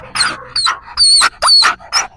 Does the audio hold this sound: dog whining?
yes